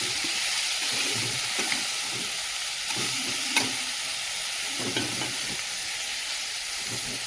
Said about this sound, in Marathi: आता आपल्याला इथं परतून घ्यायचे कारले कांद्यांमध्ये